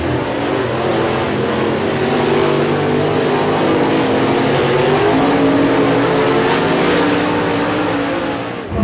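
Race cars roar around a dirt track at a Talladega speedway in Alabama, a loud, sustained engine drone with revving swells that carries on throughout.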